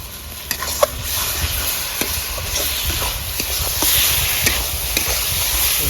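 Rohu fish gravy with a large chopped tomato fries in oil in a pan, a steady dense sizzle and hiss running throughout with scattered small pops and occasional clicks of stirring, close and fairly loud.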